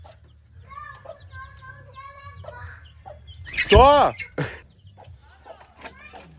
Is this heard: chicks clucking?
yes